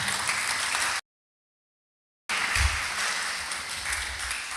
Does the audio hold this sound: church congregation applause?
yes